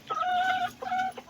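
Chickens cluck nearby in short, tonal bursts, two rising calls close together, fairly faint.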